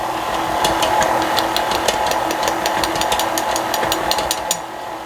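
An electric mixer runs on low speed through cheesecake batter, giving a steady, close, continuous whirring drone that holds evenly throughout before dropping off slightly at the very end.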